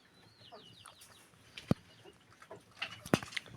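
Hens in a coop infested with red mites give a few soft, faint clucks, with two sharp, louder knocks or calls standing out against a quiet, rustling barn background.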